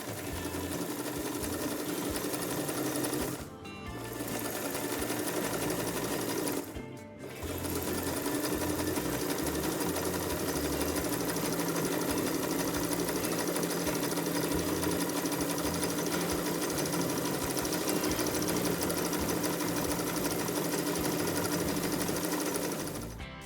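A 1960s sewing machine stitches cord for a tulip-style bag at real speed, a steady loud mechanical whir running continuously, broken twice by brief pauses.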